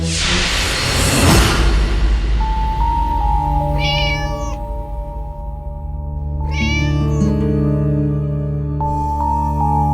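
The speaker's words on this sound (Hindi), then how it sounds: "ये बिल्ली मुझे भी मार डालेगी।" A cat meows in a Hindi crime drama scene, with two or three loud drawn-out meows rising over a steady musical score and a sharp whoosh near the start.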